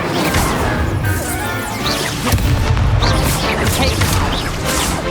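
Incendio fire spell casts in Hogwarts Legacy combat, loud whooshing bursts and crashing impacts in quick succession amid a busy battle, with shouted voices over the top.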